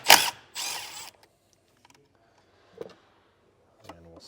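A hand ratchet works loose a 10 mm nut on a 2024 Kia battery terminal, giving a few faint, sparse clicks after some louder handling noises at the start and a short rapid ratchet burst at the end.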